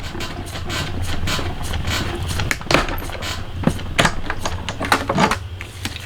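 A hand-cranked die-cutting machine rolls plates through, giving a steady grinding rumble broken by irregular clicks and clunks over about six seconds, close and fairly loud, with no talking.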